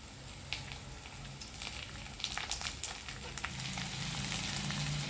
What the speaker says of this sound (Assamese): এক মিনিট ফ্ৰাই কৰাৰ পাছত ইয়াতে বিলাহী দিলোঁ